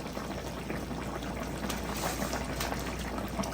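Creamy gravy with pork chops simmers in a pan, giving a steady, dense bubbling hiss with scattered soft pops throughout, fairly close and moderately loud, with no talking.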